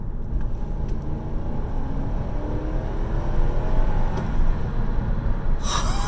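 A Lexus SC430 accelerates hard, heard from inside the car as a steady low engine rumble that swells slightly toward the end, with no talking.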